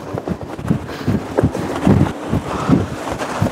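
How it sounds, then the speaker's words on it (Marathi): Strong gusting wind on the Raireshwar hill fort plateau in rainy, foggy weather, buffeting the microphone with a steady low roar and uneven surges throughout, with no talk. "वारं खूप आहे."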